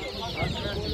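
Chickens cluck close by in a busy, noisy poultry market in Ankara, with voices murmuring underneath.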